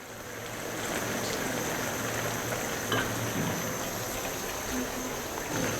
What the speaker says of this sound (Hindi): अब इसमें 1 कप के करीब ऑयल जाएगा।